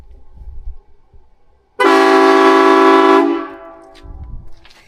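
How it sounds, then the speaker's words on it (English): A Horn Blasters air horn installed on a mini truck gives one long, very loud, blaring blast lasting about a second and a half before cutting off, with quieter background rumble around it. "it's simply just hit the horn, and that's pretty much it, man. It'll sound off"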